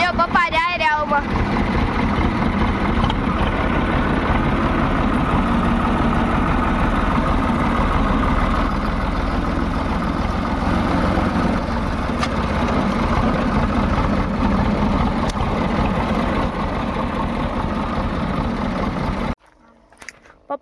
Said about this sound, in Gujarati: ચાલો આપણે ટ્રેક્ટર લઈને પહોંચી